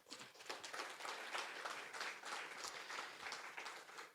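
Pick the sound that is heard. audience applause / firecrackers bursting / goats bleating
audience applause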